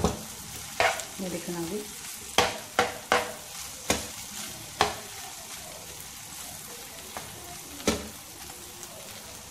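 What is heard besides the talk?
roasting in a pan over high flame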